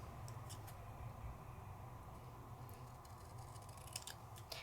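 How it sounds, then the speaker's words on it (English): Quiet, intermittent snips and crisp paper rustles from scissors cutting patterned card-making paper, spaced irregularly over a low steady background hum. "A little bit of cutting."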